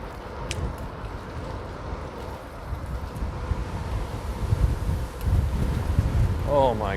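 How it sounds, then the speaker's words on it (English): Strong outdoor wind buffets a microphone in a steady, loud low rumble that swells and gusts throughout, with a brief voice near the end. "it's really windy"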